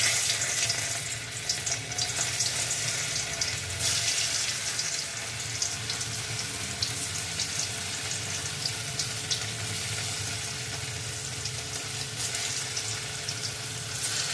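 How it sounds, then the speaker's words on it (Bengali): Paneer pieces fry one by one in hot oil, giving a steady, dense sizzle and bubbling hiss that stays even and close throughout, with no talking. "দেখো এবার এই পনিরগুলো ভাজতে থাকছে একটা একটা করে"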